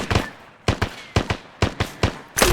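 Bursts of machine gun fire in the game Arma 3 come in five or six short, evenly spaced volleys, close and sharp, with a louder burst at the end.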